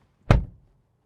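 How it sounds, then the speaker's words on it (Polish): A Volvo EX30 electric car door swings shut with a single short, solid thunk that dies away quickly, alone and close by. "zobaczcie jaki śmieszny dźwięk wydaje zamykanie drzwi"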